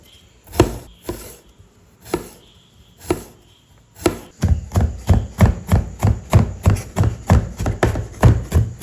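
Garlic is chopped with a knife on a board for butter garlic chicken: a few spaced, sharp chops, then a fast, steady run of close, crisp knife strikes.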